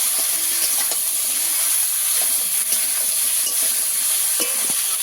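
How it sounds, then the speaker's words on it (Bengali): Potatoes and green plantain fry in a pan with salt, giving a steady, close hiss and sizzle throughout, with light stirring clicks and no talking. "লবণ দিয়ে একটু ভালো করে আলু আর কলা ভেজে নেব।"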